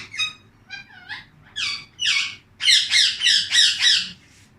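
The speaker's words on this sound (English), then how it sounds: "You can hear my parrot is teaching to you also." A pet parrot gives a series of loud, harsh squawks and screeches close by: a few short calls, then a rapid run of five repeated squawks, over low room hum and no talking.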